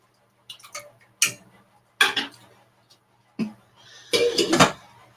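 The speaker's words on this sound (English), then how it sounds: "I can stir this around a little bit" A spoon stirring sweet oregano in a cooking pot, heard as a few separate metallic clinks and scrapes against the pot, close by and clear, with quiet pauses between them and no talking.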